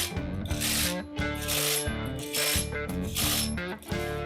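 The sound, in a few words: ratchet snugging flywheel bolts on a 572 Hemi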